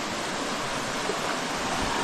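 Irrigation water rushes in a continuous, loud, even wash of noise out in a sweet potato field, with no voices over the flow.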